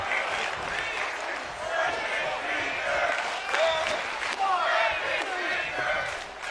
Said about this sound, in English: And the crowd is very vocal here tonight.